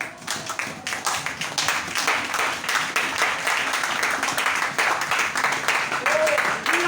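Audience applause and clapping fill a church service, a sustained burst of many hands with occasional voices mixed in, loud and close.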